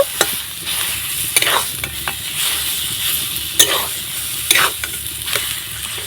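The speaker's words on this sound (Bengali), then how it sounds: "এবার আমি সব কিছু ভালো করে আলুগুলো কষিয়ে নেব" Mashed potatoes sauté with spices in a pan, a loud continuous sizzle over which a spoon scrapes and stirs in repeated brisk strokes, close and prominent, with no talking.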